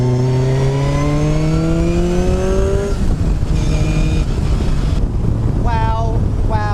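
A Striker Aero 241S sports car with a Toyota 20-valve engine revs hard and loudly close by, its pitch climbing through the gears. The engine then drops off and rises again in shorter sweeps, with wind buffeting the microphone.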